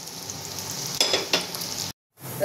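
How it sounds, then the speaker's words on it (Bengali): Steady crackling sizzle of Bombay duck (loitta) fish fritters frying in a pan over lowered heat, with a couple of louder spatters and a brief break in the sound. "আঁচটা কমিয়ে ভাজবো।"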